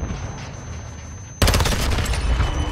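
Dense burst of Call of Duty MW2 gunfire erupts suddenly partway through, loud and continuous after a quieter stretch of game ambience.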